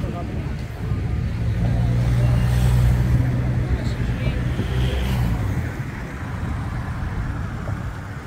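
Cars pass over a pedestrian bridge in Omiš with a steady low rumble of traffic that swells and eases. People talk throughout.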